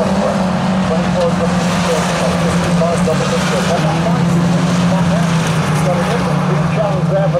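1000cc Mini race cars lapping an autograss track, a continuous buzzing engine drone running steadily under close commentary speech.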